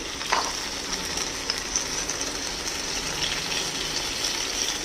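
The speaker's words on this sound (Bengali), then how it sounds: "কুমড়োটাকে হালকা করে ভাজা করে নেব ফ্লেমটাকে কমিয়ে দেবো নয়তো রসুন কিন্তু পুড়ে যাবে" Pumpkin and garlic frying in oil over a lowered flame, a steady close sizzle with faint crackles throughout and no talking.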